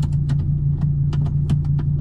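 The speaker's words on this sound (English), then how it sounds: "It's just the gated shifter itself, the nature of it, and going into gear." Metallic clicks and clacks from the gated manual shifter of a 2011 Audi R8 V10 being moved into gear, a quick series of sharp taps over the steady low hum of the idling engine.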